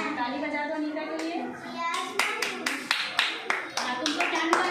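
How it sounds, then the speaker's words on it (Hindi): Children clapping for a classmate named Neeta in a classroom, a run of sharp, fairly close claps in an uneven rhythm, with a voice talking over the first part and through the claps. "ताली बजा दो नीता के लिए"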